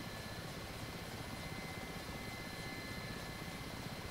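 Steady, dense rotor and turbine roar of an Mi-8 helicopter in the DCS flight simulator, rolling down a runway for a running takeoff; a continuous close drone with no pauses and no talk.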